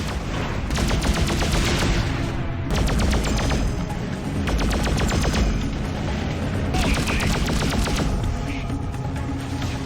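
Gunfire and explosions crackle through a space dogfight in the 2003 space sim Freelancer, a dense, continuous barrage of rapid shots with booming hits and a low engine hum, loud and unbroken throughout.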